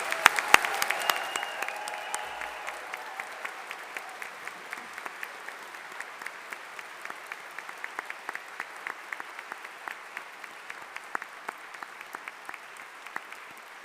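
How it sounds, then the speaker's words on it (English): Graduation ceremony audience for science and engineering graduates applauding steadily, a sustained wash of many hands clapping in a large hall, moderately distant and even throughout with no talk. "Let's give our summer graduates of 2025 a big round of applause"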